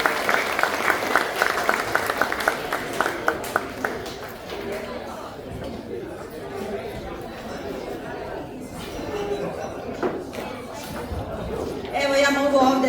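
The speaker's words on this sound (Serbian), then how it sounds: "Molimo za jedan aplauz za gospođu Milicu Topalović." An audience at the opening of a Vidovdan assembly and slava celebration of a Serbian folk dance society in Gmunden, Austria, claps in a brisk burst that fades into murmuring crowd chatter and voices.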